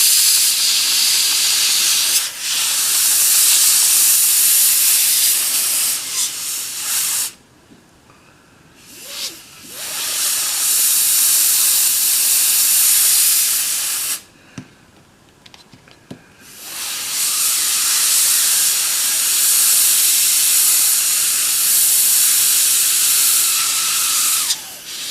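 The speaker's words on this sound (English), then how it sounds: "The steam is very hot, be careful." Hot steam from a steamer used in making a full upper denture hisses loudly and continuously in three long bursts, broken by two short quiet gaps.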